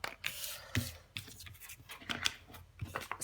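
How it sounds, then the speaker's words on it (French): Tarot cards being laid out on a table, soft papery slaps and sliding rubs in an uneven sequence of close, quiet handling sounds. "Je vais installer toutes les cartes"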